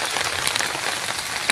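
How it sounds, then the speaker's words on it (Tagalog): Heavy rain pours down at an outdoor riverside camp among large dead trees, a dense continuous hiss of drops with a few sharper close splats. "Malakas yung ulan."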